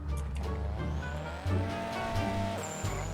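Gundam car in a video game driving, an engine drone with shifting tones and a rising whine, with a brief brake or skid burst midway.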